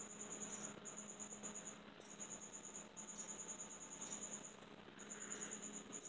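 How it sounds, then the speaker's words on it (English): Crickets chirp inside a reptile enclosure, a high, faint, steady trill that breaks off now and then and picks up again over a low background hum. "I got quite a few crickets in there, as you can hear them."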